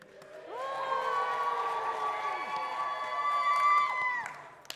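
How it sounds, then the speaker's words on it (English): A congregation at a Shabbat evening service breaks into a loud, sustained cheer, many voices shouting together for about four seconds before fading. "we really want to hear that cheer"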